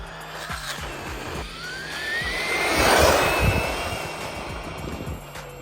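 A Traxxas Mini XRT RC truck runs at full throttle with a high whining electric motor that rises and swells as it passes close by, over rough outdoor ground with wind.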